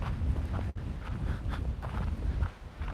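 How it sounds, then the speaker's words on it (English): Strong gusty wind buffets the microphone outdoors in open tumbleweed country, a continuous low roar with a brief dropout partway through. "This is some really strong wind."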